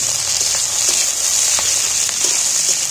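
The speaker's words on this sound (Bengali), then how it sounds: "একটু তেলের মধ্যে একটু ভেজে নেব।" Chopped onions and capsicum fry in a little oil, giving a steady bright sizzle with faint crackles and pops throughout, close and unbroken.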